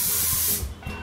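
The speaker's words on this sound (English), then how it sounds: "I'm just going to spray and show you guys if it does mattify or not." Body spray nozzle releasing one short burst of mist, a close hiss lasting about half a second before fading, followed by a fainter second puff.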